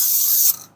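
A spray paint can hisses in one short, steady burst onto a vintage camper exterior, close and loud, then cuts off abruptly.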